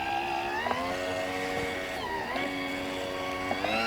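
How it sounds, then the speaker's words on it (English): A Caldwell Target Turner's small electric motor runs continuously, giving a steady, even whine with a faint mechanical buzz and slight shifts in tone as it periodically reverses direction, close and alone. "Now the motor runs continuously, and it just switches directions every so often"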